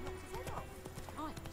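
Roach, Geralt's horse in The Witcher 3, clip-clops at a steady trot with close hoofbeats, a few voiced lines sounding over the hooves.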